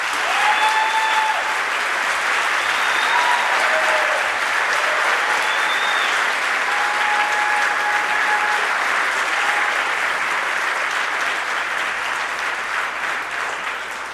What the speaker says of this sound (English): please join me in a round of applause for the maestro